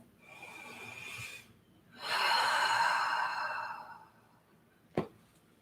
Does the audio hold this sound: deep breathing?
yes